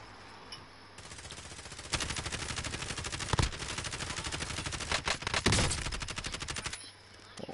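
Sustained automatic gunfire in a PS4 shooter, dense rapid bursts that keep going for several seconds with a few heavier blasts, loud and close with no talk over it.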